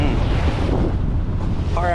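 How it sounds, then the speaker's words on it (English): A sea breeze at Frenchman Cove beach buffets the microphone with a loud, steady rush, blending with the wash of nearby surf, and a voice comes in faintly near the end. "The breeze feel nice."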